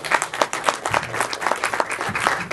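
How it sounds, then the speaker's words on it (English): A comedy club crowd applauds the night's host, with continuous close clapping and scattered cheers held throughout. "Another round of applause for Snacks hosting tonight."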